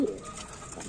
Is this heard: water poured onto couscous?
no